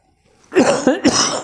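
A single harsh cough bursts out up close, a few rough hacking spurts running together.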